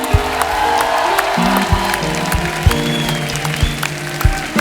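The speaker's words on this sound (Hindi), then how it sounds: "क्या बात है, जोरदार तालियां हो जाए।" Steady applause from a TV comedy show studio audience fills the room, dense clapping continuing throughout with a few louder claps standing out.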